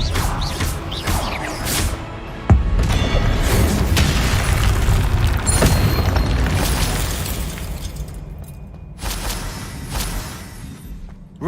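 Expelliarmus spell impacts in Hogwarts Legacy, heard as a deep, booming explosive blast with crashing debris and sustained rumble, loud and close, tapering off before a second smaller burst.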